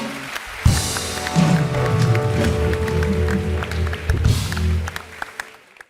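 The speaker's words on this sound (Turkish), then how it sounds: "Bir alkış alalım Emre'ye ya" Studio audience applause for a guest on a Turkish talk show, a full burst of clapping that swells and holds for several seconds under some voices, then tapers and fades to quiet at the end.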